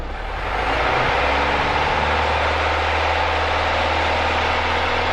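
A Piper Warrior's single piston engine runs at full takeoff throttle, a loud, steady broadband roar with a strong low drone that swells in the first second and holds unbroken, with no talk over it.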